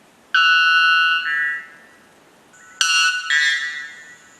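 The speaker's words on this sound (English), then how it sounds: "Number 2, white bellbirds." White bellbird calls: two loud, piercing, metallic bonging notes with a quiet gap between them, each ringing briefly and then dropping in pitch, heard close with no other sound.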